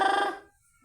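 A phone rings with a short, bright electronic chime that fades within a fraction of a second, followed by near silence.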